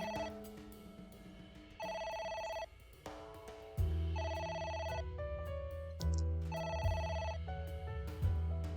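A phone rings insistently in the AI: The Somnium Files video game, its electronic trills returning in regular bursts over a low musical background with no talking.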